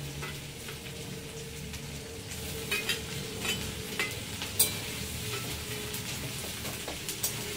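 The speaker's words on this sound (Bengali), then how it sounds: "এবার দিয়ে দিলাম আদা রসুন" Ginger and garlic sizzle steadily as they fry in a pan while being stirred, with soft scraping and a few sharper clinks of the utensil against the metal over the continuous crackle.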